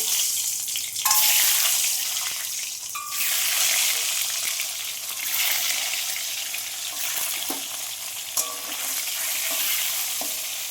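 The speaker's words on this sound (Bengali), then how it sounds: "তো আমার এখানে কড়াই তেল আর নুন দিয়ে রেখেছি, হলুদ" Halved duck eggs frying in a wok of hot oil with salt and turmeric, a steady broadband sizzle with occasional sharp pops and spatters, heard alone without any talk.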